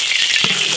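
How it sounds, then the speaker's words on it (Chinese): Hot oil sizzling in an iron wok as beef and chili stir-fry begins, a loud, steady hiss filling the short moment with a slight swell midway. "起锅烧油"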